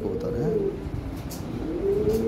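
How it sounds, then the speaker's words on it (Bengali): Several choice pigeons coo nearby in soft, repeated rolling calls, close and fairly loud, with faint background stirring. "বাছাই করা কবুতর"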